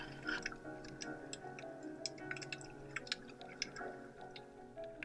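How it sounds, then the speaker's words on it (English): Sea urchins crackle underwater in a kelp forest off Santa Cruz Island, California, a dense scatter of faint, irregular clicks and snaps over a low watery hum. "You could hear the sea urchins in the ocean in the background if you listen."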